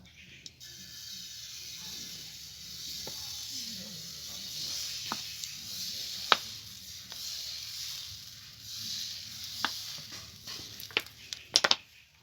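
Homemade chow mein noodles stir-fried in a hot wok with a little oil, a soft sizzle under scattered sharp metallic clicks and scrapes of the spatula, with a cluster of louder knocks near the end.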